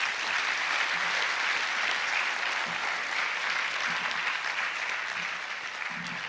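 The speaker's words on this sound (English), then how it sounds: "I counted 10 claps interrupting the speech." Steady applause from an audience at a medical college induction ceremony, a dense continuous clapping wash held at even loudness throughout, with no speech over it.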